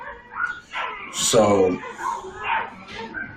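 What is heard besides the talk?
dog barking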